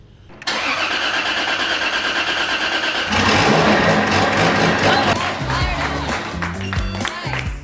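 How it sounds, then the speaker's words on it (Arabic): A modified BMW E36 engine, built up from 190 to 600 horsepower, cranks and fires into a loud, close running idle, then revs harder partway through before settling into a rough, uneven idle. "فدوروا العربيه واخيرا اشتغلت"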